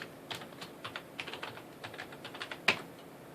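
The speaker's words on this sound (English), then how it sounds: "we got to put the password in twice and hit enter" Computer keys tapped at a moderate pace, a couple dozen close, crisp clicks with one louder keystroke near the end, like entering a password during a Linux install.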